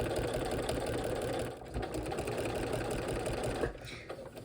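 A sewing machine stitches quilting lines through a quilt-as-you-go sampler block, a steady close whirring hum running continuously with slight pauses near the end.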